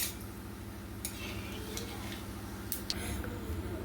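Whole cumin seeds stirred in hot oil in a wok give a soft, continuous sizzle with a few light scrapes and clicks of the spatula, under a faint low hum and occasional speech.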